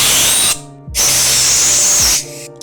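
Air compressor nozzle blowing scooter handlebar grips onto the bars, two loud close bursts of hissing air with a short gap between them.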